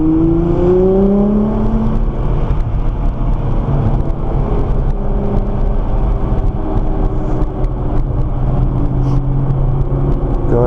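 A Nissan GTR's engine pulls hard on a race track, a loud, close, sustained roar whose pitch climbs early on and then holds steady, with heavy wind and road rush throughout.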